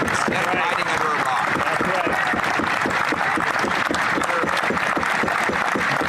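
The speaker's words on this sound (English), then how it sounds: "Pierre gets some clapping." Members in Canada's House of Commons break into a burst of clapping and desk noise, a dense rapid patter with voices mixed in underneath.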